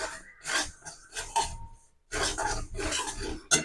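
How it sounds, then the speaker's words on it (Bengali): Semolina already roasted for about two minutes is stirred with a little salt in a pan, giving bursts of dry scraping and rubbing against the metal, with a short pause midway and a sharper scrape at the end, no talk. "লবণটা দিয়ে আবার ভালো করে মিশিয়ে নেব।"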